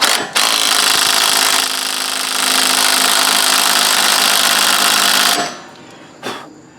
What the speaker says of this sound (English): simply going to use my little impact and tighten it down as hard as it'll make it